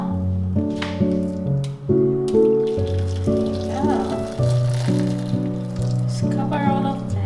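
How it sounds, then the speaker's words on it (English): Hot water is poured over tomatoes, onion, ginger, garlic and cashews in a bowl, making a close, continuous splashing gurgle, with a steady tonal hum running underneath. "We pour hot water now."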